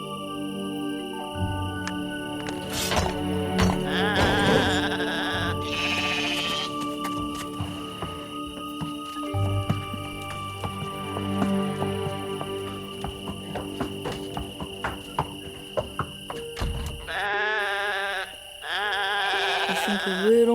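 Sheep bleat repeatedly in the Lost Lands 9 video game, wavering calls that come several times over layered game music and ambient tones, with other effect sounds in between.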